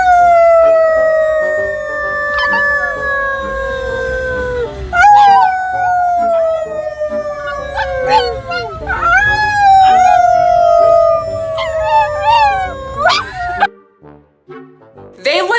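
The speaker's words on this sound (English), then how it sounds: "when we all start howling, Yoshi will just want to join in on the fun because they like being included" A pug howls in long, wavering, sliding tones, joining people who howl along, the voices overlapping steadily and loudly before fading out near the end.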